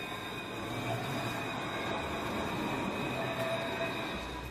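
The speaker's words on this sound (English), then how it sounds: "Luas, Dublin's modern urban tram system, provides a link from the city's outer suburbs into its centre." A Dublin Luas urban tram rolls along steadily with a continuous rumbling, rail-borne noise and a faint high whine, moderately loud and unbroken throughout.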